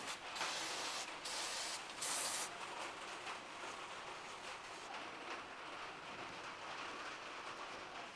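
Short, loud aerosol spray bursts clean brake fluid off a control arm on an RA28 Fastback Celica, several quick hisses up front, then a softer continuous spray with faint wiping and clatter.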